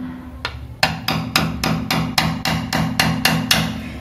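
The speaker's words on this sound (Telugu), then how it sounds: "ఈ పీస్ తీసేదానికి మనకు ఇక్కడ మనం కొట్టి కొట్టి తీయాలా" A hammer strikes a screwdriver in a rapid, steady series of about a dozen metallic taps, knocking out a piece during a tap repair fitting, close and clear with no talk.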